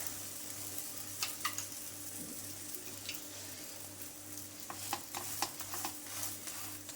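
Wheat flour holige (obbattu) cooks in oil on a pan, giving a steady, close sizzle with scattered sharp crackles and pops and no talking.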